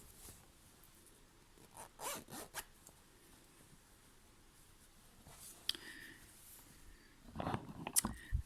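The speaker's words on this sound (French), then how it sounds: "Voilà une fermeture éclair invisible, totalement invisible." An invisible zipper with a red tape being drawn closed along fabric, a series of short rasping bursts that grow louder and busier toward the end, close and alone.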